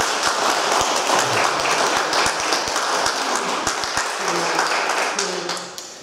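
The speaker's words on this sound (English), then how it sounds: "Give him a round of applause." A church congregation at Sunday worship gives a round of applause, a full, sustained wash of many hands clapping with a few sharp nearby claps standing out, easing off toward the end.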